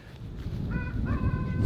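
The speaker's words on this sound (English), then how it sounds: "And the chickens are all getting ready for the storm and going undercover." Chickens on a farm as a big storm approaches, with short harmonic clucks and calls heard nearby over a low rumble of wind and ground noise.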